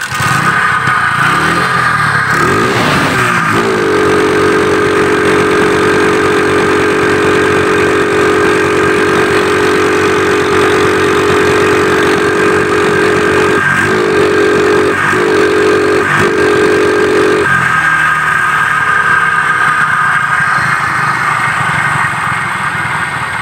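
A motorcycle engine with a faulty carburetor revs up and holds a steady high drone, then gives several short uneven bursts before dropping back to idle; a loud, close, continuous mechanical tone.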